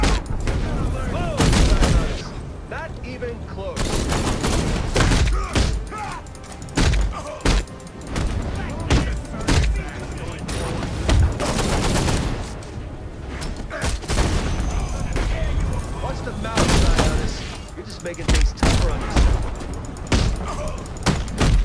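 Dense gunfire and thudding impacts in combat from the video game Batman Arkham Knight, Red Hood story pack, loud and nearly continuous bursts with booms throughout, a voice talking over the action.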